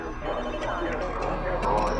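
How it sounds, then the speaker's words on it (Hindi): Phone ringing in a film scene, a repeated electronic ring sounding in short bursts at moderate level beneath someone narrating in Hindi. "उसे दूसरों के फोन की आवाजें सुनाई देने लगती हैं"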